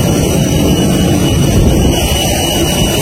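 A jet airplane engine roars loudly and steadily at Santorini airport, a constant broadband rumble filling the whole stretch.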